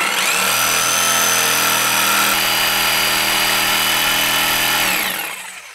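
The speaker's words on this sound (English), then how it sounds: "we'll just use the jigsaw to take out the majority of the waste" A jigsaw cuts out waste wood for a wall plate housing, a loud, steady high-pitched buzz running almost five seconds close by, then winding down as the blade stops.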